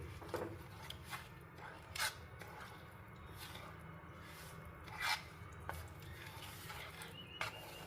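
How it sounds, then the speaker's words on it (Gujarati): Semolina and milk being stirred together in a pot, a soft steady scraping and rubbing with a few brief louder knocks of the utensil, close and fairly quiet, with no talk. "અહીંયા સૂજી અને દૂધને આપણે પ્રોપર મિક્સ કરીશું."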